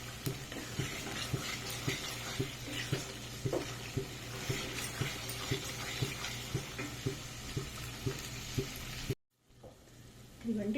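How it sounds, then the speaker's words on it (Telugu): Masala frying in oil for Mughlai egg curry, a steady sizzle with regular stirring scrapes in a rhythmic pattern, cutting out briefly near the end before resuming. "ఆయిల్ పైకి వచ్చేంత వరకు చక్కగా వేయించుకోవాలి"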